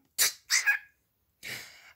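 Three quick sneezes of the Pikachu character, high and breathy, in a short burst: two close together, then a third after a pause, near and alone against silence.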